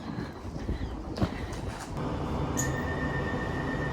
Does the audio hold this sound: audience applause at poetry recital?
no